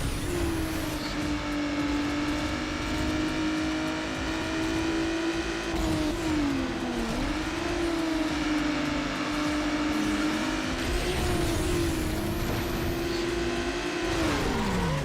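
A car engine in Need For Speed Underground Rivals holds a loud, sustained drone. Its pitch rises and dips through gear changes and revs, with the noise of other cars around it and no talking.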